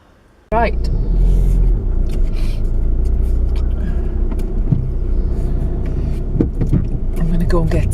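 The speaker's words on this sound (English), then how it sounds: "as I'm driving up the car park" A car rumbling steadily as it drives up into a seaside car park, engine and road noise starting abruptly and continuing close and loud throughout, with a few brief vocal sounds over it.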